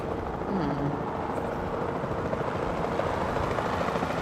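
Helicopter rotor drone in the Jurassic World video game, a steady continuous whir that holds at an even level throughout, with faint voice-like murmurs briefly in the background near the start.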